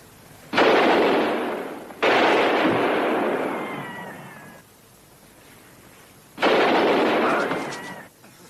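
Gunshots in a 1966 film soundtrack, three loud, close blasts each followed by a long decaying echo, with quiet gaps between them.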